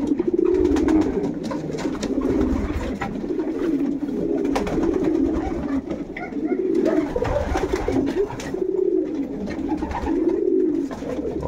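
Pigeons coo in repeated soft, low rolling phrases near the listener, with faint fluttering and shuffling as the birds move about, continuous and close.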